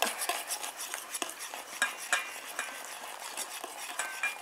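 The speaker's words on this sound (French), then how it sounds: "Et je rajoute ma phase aqueuse tout en mélangeant" A water-based phase being stirred into an oil emulsion for a homemade hair conditioner, with quick repeated clicks and scrapes of a utensil against a container and a light rapid rhythm, close and fairly quiet.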